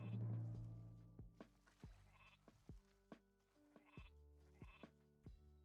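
Several sheep bleat in the strategy video game Northgard, a sequence of short wavering cries at an irregular pace, some overlapping, fairly faint and with no talking.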